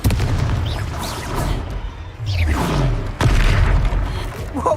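A Confringo fire spell goes off in the game Hogwarts Legacy with loud, deep booming blasts and rumbling bursts, including a sharp hit near the end, inside a dense combat soundscape.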